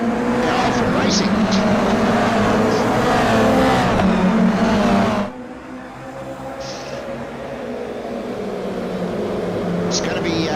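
Race cars launch off the grid in a sim racing game, a loud dense engine roar building under commentary, then cutting abruptly before the revving pack returns more distantly.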